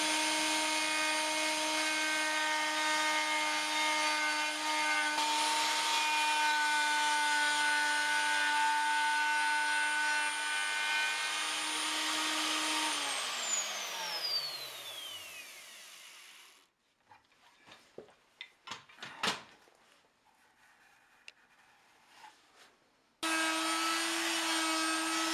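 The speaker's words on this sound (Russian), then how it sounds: "И точно на такой же глубине нарезать уторный паз." Power tool cutting the croze groove into new oak barrel staves: a loud steady high-pitched machine whine that winds down, then scraping and knocking of wood, then the whine starts again.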